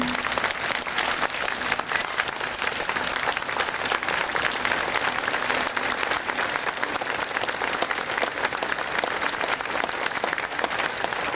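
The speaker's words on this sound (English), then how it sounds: "So for these veterans, a rousing round of applause, please." Sustained applause from a large audience honoring veterans, steady and dense clapping filling the whole stretch without pause.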